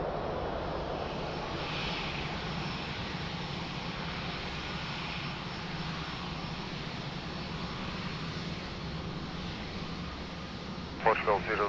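An airplane at Lisbon Airport gives a steady, broad engine roar that runs unbroken through the whole stretch, with a few short louder bursts near the end.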